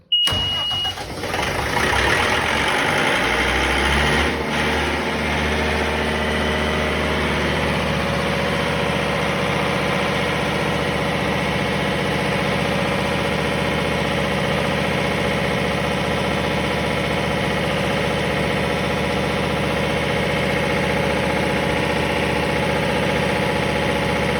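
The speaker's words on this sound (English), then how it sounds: "Your generator has been manually tested." A Katolight 50 kW standby generator with a KDGC 500 controller, run manually for a test, cranks and starts, then holds a steady, loud, continuous idle drone with a low hum for the rest of the stretch. No one speaks.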